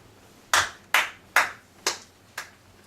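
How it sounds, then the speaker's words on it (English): Five separate claps ring out about half a second apart, each sharp and fading, from a talk show audience welcoming a guest; the sparse pattern sounds more like one person than a full crowd. "Give him a round of applause, ladies and gentlemen"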